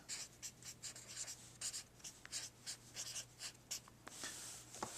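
A pen writes a single word by hand on notebook paper in a quiet room, a run of short scratchy strokes with small pauses between letters, close and fairly soft, with a faint low hum underneath.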